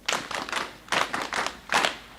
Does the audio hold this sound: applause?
yes